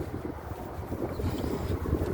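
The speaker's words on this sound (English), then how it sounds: "But yeah, real windy here." Steady wind buffeting the microphone outdoors in South Bend, Indiana, a low rumbling roar that gusts slightly louder toward the end, with no voices.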